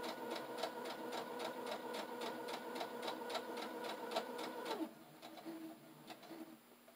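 A sewing machine stitches through thick felt fabric for a pouch, a fast regular chatter of needle strokes that runs steadily, then slows and quiets as the stitching eases off near the end, close and alone.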